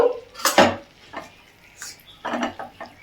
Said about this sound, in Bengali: আলু আর ডিম দিয়ে একটু কষিয়ে নিই